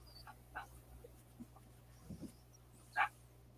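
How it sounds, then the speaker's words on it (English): A female dog barks somewhere nearby but fairly faint: a few scattered short yips and whimpers, then one louder bark near the end, over a low steady hum with no talking. "I got to get this dog in. She's barking like crazy."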